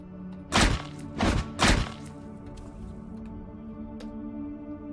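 An umbrella smashing against a crate in Cataclysm: Dark Days Ahead: three heavy, dull thuds in quick succession, followed by a quiet low hum.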